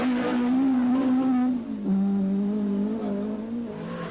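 A Datsun rally car driven by Tony Pond at the 1982 Rallye du Portugal revs hard, its engine note holding high, dipping briefly as it shifts, then climbing again, heard clearly and alone.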